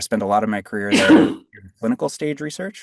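A single sharp sneeze bursts out in the middle of a podcast conversation, close and loud, with someone speaking just before and after it.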